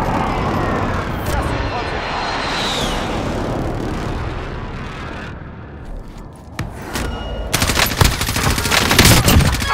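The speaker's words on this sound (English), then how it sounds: "Be advised, friendly precision airstrike inbound." A precision airstrike in Call of Duty Warzone arrives as a roaring jet pass and rumbling blast, followed by a burst of rapid, loud gunfire, with game voices talking over it.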